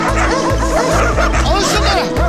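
Dogs bark in rapid, repeated bursts close by, loud and rhythmic, with laughter and voices mixed in underneath.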